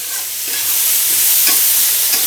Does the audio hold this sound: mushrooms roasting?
yes